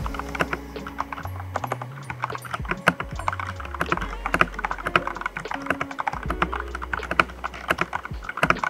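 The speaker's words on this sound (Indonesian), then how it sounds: "kasih tahu kayak feel suara ngetiknya itu gimana" Rapid typing on a Ducky ProjectD Tinker keyboard fitted with linear switches, a dense run of close, crisp keystroke clacks in an irregular rhythm, heard alone without talk.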